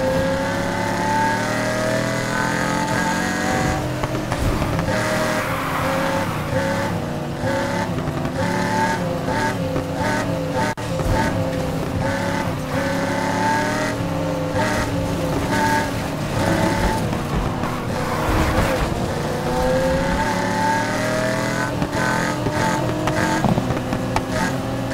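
A race car engine runs at full throttle in Need For Speed Heat, a loud sustained roar with rising and falling revs and gear shifts throughout, close and continuous.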